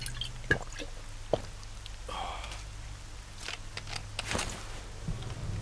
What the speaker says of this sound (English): And let's drink some water.